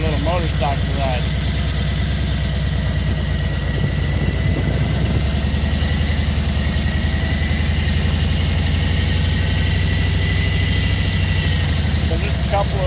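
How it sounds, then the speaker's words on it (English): A motorcycle engine runs in Urbana, Illinois, producing a loud, steady, close rumble with a throbbing low-end vibration throughout. "Take you for a little motorcycle ride."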